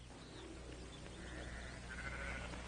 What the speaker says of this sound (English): Now, Drummond, get those sheep out now.